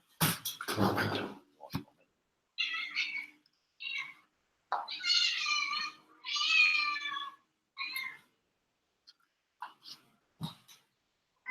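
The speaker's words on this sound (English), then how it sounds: "Cats getting excited when I get up." Hungry domestic cats meow eagerly in a run of short, repeated calls that come in bursts and then trail off into sparse, quieter mews, close by and with no talk.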